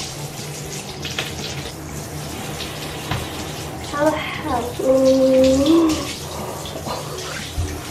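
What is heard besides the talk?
running tap water while rinsing bleached hair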